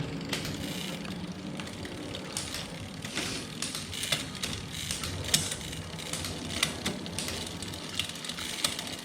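A SRAM Eagle bicycle drivetrain is cranked through its gears, giving a close, steady chain whir peppered with quick ratcheting clicks as the shifts land.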